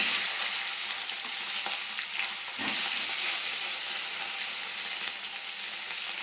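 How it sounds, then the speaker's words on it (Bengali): Cauliflower frying in oil left over from frying fish, a steady, fairly quiet sizzle with faint stirring sounds and no talk. "এবার মাছ ভাজার তেলে ফুলকপিটা ভেজে নেবো"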